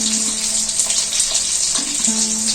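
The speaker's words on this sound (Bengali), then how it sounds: "কড়াইয়ে সরষের তেল দিয়ে দেব।" Mustard oil poured into a wok gives a steady, close hissing pour that runs without break, with no talking over it.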